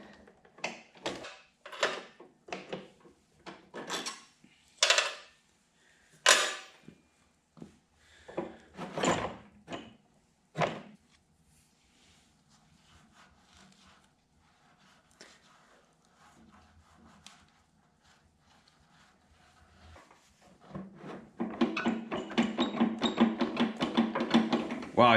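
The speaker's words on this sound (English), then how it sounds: "So I'm gonna use my 10mm socket on my impact driver." An impact driver with a 10mm socket loosens bolts on a snowblower during assembly, giving short loud bursts of hammering rattles in quick succession, then a quieter stretch before a long steady whirring run at the end.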